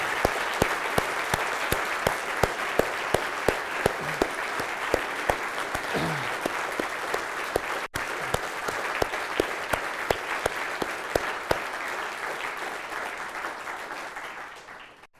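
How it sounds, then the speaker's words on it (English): An audience at a celebration event applauds the people being honoured, with loud, sustained clapping holding steady for around fifteen seconds, a few sharper individual claps popping out, before fading at the close. "So I think we should give them a round of applause."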